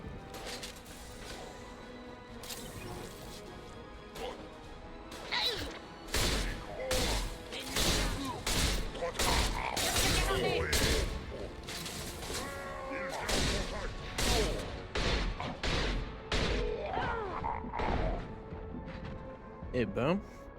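Shotgun blasts in the Mass Effect 2 video game come as a rapid, irregular series of loud, sharp bangs with crashing impacts, mixed with game sounds and a voice speaking over the action.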